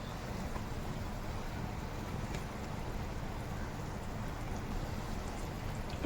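A pot of tomato rasam at a rolling boil, giving a soft, continuous bubbling hiss at low level with no talk.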